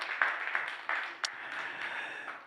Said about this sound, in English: Please, round of applause for Bartolomiej.